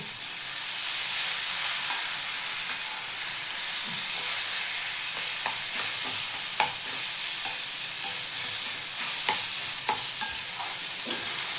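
Onion and tomato for a chutney fry in a pan with a steady, loud sizzling hiss, punctuated by intermittent scraping and tapping of a spatula as the mixture is stirred.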